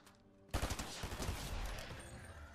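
Rapid, sustained gunfire from a shooting video game erupts after half a second of quiet, bursts blurring into a dense, loud fusillade that continues to the end.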